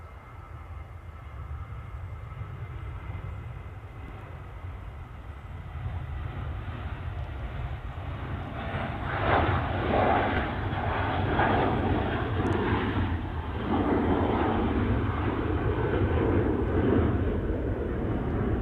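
Ryanair jet airliner taking off at Manchester Airport, a steady broadband engine roar that swells louder midway and holds, heard close without voices.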